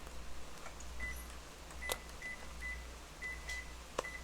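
An oven timer gives short electronic beeps as it is set for garlic toast, a series of brief, evenly spaced chirps at moderate distance over a low kitchen hum, with no talking.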